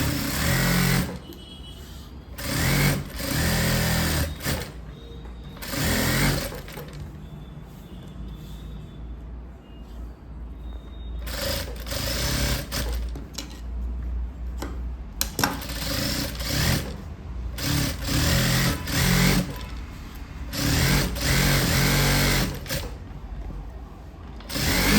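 A sewing machine stitches along the lining of a blouse, running in repeated bursts of rapid mechanical stitching separated by short pauses, close and fairly loud.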